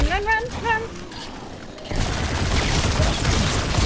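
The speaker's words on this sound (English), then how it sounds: "This gun just shoots them right in half." Rapid gunfire in Call of Duty: Infinite Warfare, a dense, loud burst of shots that sets in suddenly after a short vocal sound and keeps going without a break.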